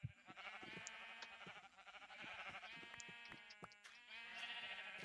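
A flock of sheep on a Minecraft sheep farm bleat repeatedly, overlapping calls continuing throughout at steady volume with no talking.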